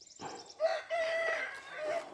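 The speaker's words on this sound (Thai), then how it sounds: "เนี่ยไก่ขันอยู่" A rooster crows outdoors in a Thai village setting, one fairly close, drawn-out cock-a-doodle-doo with a rising start and a wavering sustained cry, heard alone without talk.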